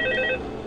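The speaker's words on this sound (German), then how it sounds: "Oh, Telefon." A telephone rings with a brief electronic trill in the horror video game Five Nights at Sonic's, loud and close, then cutting off.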